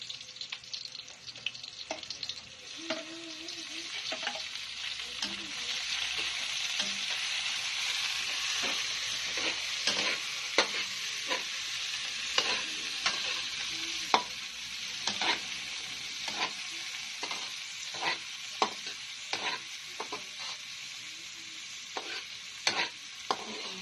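Tomatoes frying and sizzling in a pan, stirred steadily with a utensil, giving a continuous close hiss broken by frequent scraping clinks, with no voices.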